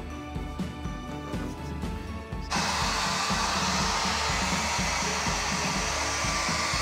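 A hair dryer drying an animal's fur switches on partway through, then blows as a loud, steady close roar after some quieter mechanical rattling.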